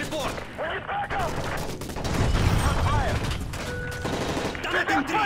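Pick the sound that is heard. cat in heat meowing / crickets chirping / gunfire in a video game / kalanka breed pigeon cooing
gunfire in a video game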